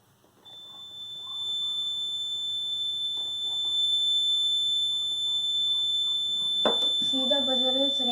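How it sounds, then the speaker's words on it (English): Homemade rain alarm buzzer sounding a steady, piercing continuous tone once water touches its sensor, with a person talking quietly underneath. "See, the buzzer is ringing, so our project is working"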